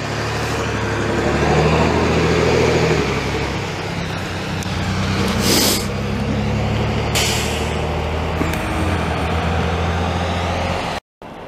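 An old Volvo freight truck, about twenty years old, rolls past at a snow dumping site in Montreal's Lachine sector, its loud diesel drone steady for most of the clip with air brake hisses, fading before a sudden cutoff near the end.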